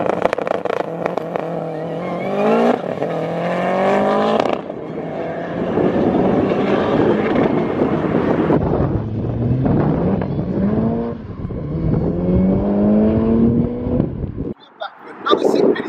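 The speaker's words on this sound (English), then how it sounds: "This is the Impreza's second quarter-mile run." Subaru Impreza on a quarter-mile drag run, engine revving and climbing through repeated gear changes with rising and falling harmonic sweeps, loud and close with wind rumble, ending in a brief drop.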